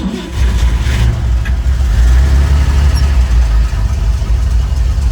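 A 1953 Chevrolet 3100 half-ton five-window truck engine idles loudly right after starting, a steady low rumbling drone with a faint clatter, close and continuous.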